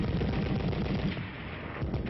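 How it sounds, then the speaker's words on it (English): A .30 caliber machine gun fires in a rapid rhythmic burst on an army range, heard as a dull, rumbling chatter in older, muffled recording quality. "learn to fire additional weapons like the .30 caliber machine gun"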